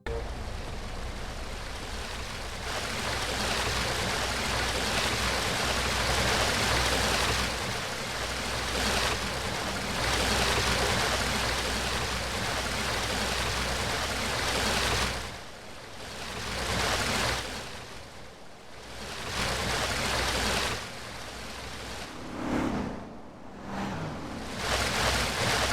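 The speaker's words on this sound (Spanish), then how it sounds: "en donde se generan los ruidos de las cascadas" Continuous rushing waterfall ambience from the game GTA San Andreas, a broad steady roar with occasional dips and swells as the listener's position shifts.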